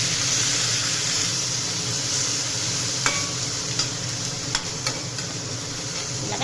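Ridge gourd peel frying in hot oil with a tempering, stirred in the pan: a steady, close, even sizzle broken by a few sharp scrapes and clicks of the spoon against the pan, with no talking.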